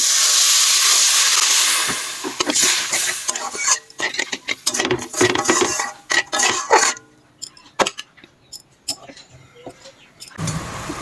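Water is poured into a hot pan of gravy and bursts into a loud, broad steam hiss that fades into uneven sputters, crackles and bubbling pops, then briefly swells again at the end.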